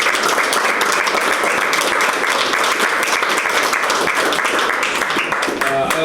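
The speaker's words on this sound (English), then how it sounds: "So a round of applause" Audience applause fills a chamber of commerce legislative lunch at a country club, sustained loud clapping from a crowd throughout, close and dense.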